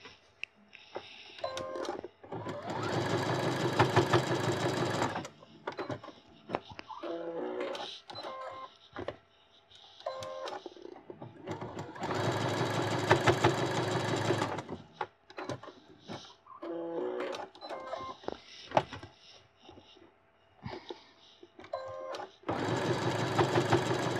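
A sewing machine stitches a square pouch with embroidery thread in three long, loud bursts of rapid whirring. Short, quieter runs and clicks of handling sit between the bursts.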